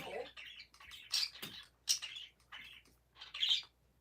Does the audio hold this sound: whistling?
no